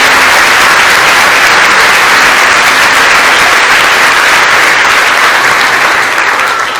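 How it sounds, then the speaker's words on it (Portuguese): A church congregation applauding during a communion service, loud and close, a thick continuous roar of many hands clapping that holds steady for several seconds before easing off. "Você pode aplaudir o Senhor."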